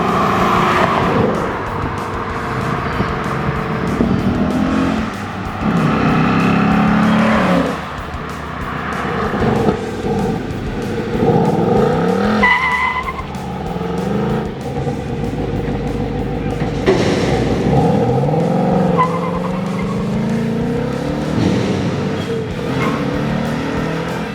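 A 2024 Mustang GT RTR Spec 2 driving, its V8 engine droning loudly from inside the cabin with repeated revving swells and gear shifts, sustained throughout with no talk.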